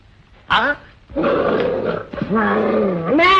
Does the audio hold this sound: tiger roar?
yes